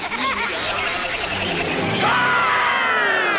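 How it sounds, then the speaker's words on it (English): Crowd noise from an old cartoon soundtrack, a dense roaring babble of many voices with yelling that holds steady and swells slightly toward the end, loud and continuous. "it sounds like a crowd"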